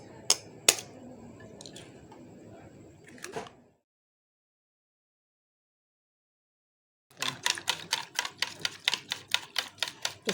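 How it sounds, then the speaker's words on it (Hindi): Six eggs beaten in a bowl for a no-oven chocolate fudge cake, first with loose scraping strokes, then after a pause a fast, even run of sharp whisk taps against the bowl, close and alone. "इस तरह एग्स को हम अच्छी तरह से बीट कर लेंगे"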